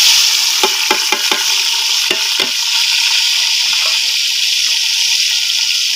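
Tomatoes, onions, green chillies and dry garlic frying in hot ghee in a village kitchen, giving a steady loud sizzle with several sharp stirring clatters early on, no talking.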